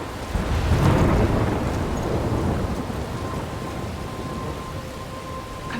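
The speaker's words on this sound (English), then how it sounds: "I'm trapped in a storm?" A thunderstorm in the video game Life is Strange opens with a deep rolling thunder rumble, then settles into steady, loud rainfall without any speech.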